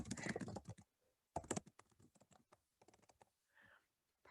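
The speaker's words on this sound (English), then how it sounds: "if I could type" A computer keyboard is typed on in quick, dense bursts of crisp clicks separated by short pauses, fairly close and alone.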